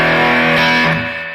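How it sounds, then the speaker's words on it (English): Peavey Classic combo guitar amp playing a sustained distorted chord with reverb, loud and close, the ring trailing off as the note decays over about a second and a half. "Reverb does what you think"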